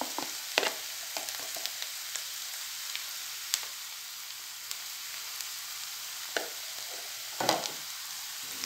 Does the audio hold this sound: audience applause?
no